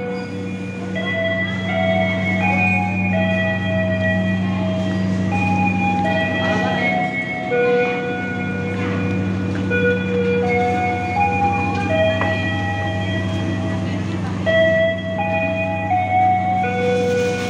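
The Malabar Pagi train from Bandung bound for Malang pulls into an Indonesian station, a long sustained horn-like tonal blare with shifting pitches over a low rumble, with some voices in the background.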